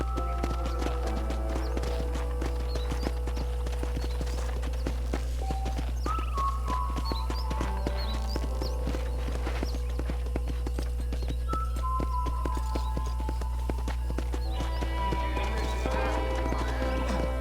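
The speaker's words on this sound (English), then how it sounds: "Hop on up. He won't bite. Giddy up!" Hooves clip-clop steadily under a horse ridden at pace in Red Dead Redemption, with occasional whinnies over a constant low hum and quiet background music.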